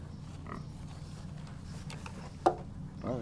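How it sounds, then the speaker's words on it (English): Young piglets, newly arrived on a farm, giving a few faint, short grunts and oinks scattered over quiet barn background, with one sharper squeal-like grunt, and soft voices nearby. "we have 6 new piglets that just arrived"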